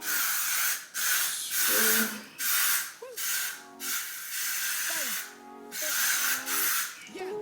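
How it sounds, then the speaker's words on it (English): A can of hair wax spray hisses in a quick series of short bursts with brief pauses between them, close up, with faint squeaky sounds underneath. "I'm gonna spray it on the hair"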